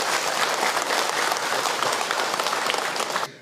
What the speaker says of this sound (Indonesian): Tepuk tangan buat ibu-ibu semua.